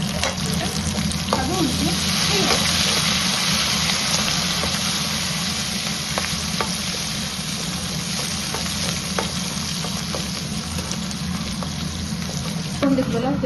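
Green chilies fry in oil in a pan for nellikayi chitranna, a steady loud sizzle with occasional stirring scrapes, while a person speaks briefly over it.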